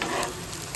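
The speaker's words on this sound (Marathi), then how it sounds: "ते आपला कांदा अजून होतोय" Onions frying in a pan while cooking paneer bhurji, giving a steady, close hiss of sizzling oil with faint stirring that stays even and continuous throughout, with no voices.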